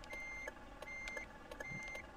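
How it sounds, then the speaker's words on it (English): Reversing beeps from a bus in the video game Bus Driving Simulator 22, a regular series of high, evenly spaced beeps over a low engine hum, quiet throughout. "Part of this beeping is driving me nuts."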